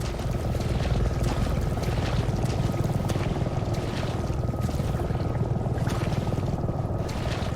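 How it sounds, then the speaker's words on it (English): A helicopter passes overhead in a dark outdoor scene of a Resident Evil video game, a steady dense rotor rumble and whooshing roar holding loud and constant throughout. "We get a top-tier chilling moment here as a chopper passes overhead."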